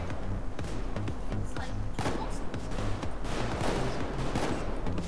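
Gunfire in the video game Payday 2, with rapid, repeated shots forming a steady barrage over a droning, tonal game backdrop.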